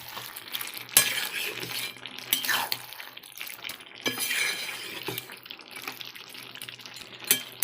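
Jackfruit and prawn curry (echor chingri) with garam masala and ghee being stirred in a pan: soft sizzling under repeated scraping and clinking of a spoon against metal, with a few louder knocks, and no talking.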